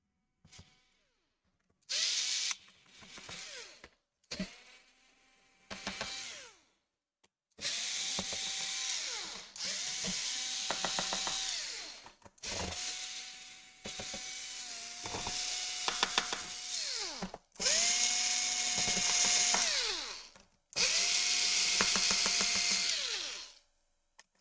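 An electric screwdriver whirs in repeated bursts, rising, holding steady and winding down, while it backs screws out of a Lenovo E595/E590 laptop during a USB-C power jack repair. The bursts are close and separated by short pauses, with no talking.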